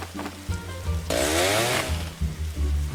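A chainsaw in the video game 99 Nights In The Forest idling with a low rumble, then revving hard into a loud whining cut through wood before dropping back to idle.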